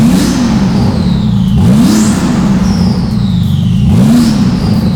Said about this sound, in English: And you can really hear the turbo spool.